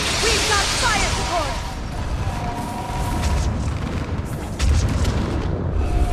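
Gunfire and artillery booms during a battle in Mass Effect 3: heavy low thuds and crackling shots in a continuous barrage, a louder boom near the end, with a voice speaking over the opening.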